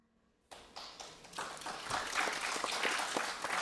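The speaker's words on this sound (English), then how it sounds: "We're just letting the applause happen here in Seattle." Applause from an audience at an entrepreneurship panel event in Seattle, starting abruptly from near silence and swelling into steady, dense clapping that continues throughout.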